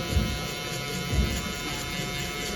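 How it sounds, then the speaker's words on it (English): A Wahl 5-Star Finale foil shaver runs on a tattooed head during a burst fade haircut, giving a steady close electric buzz with a couple of brief heavier pulses as it moves over the scalp. "Next step, I'm gonna come with my foil shaver."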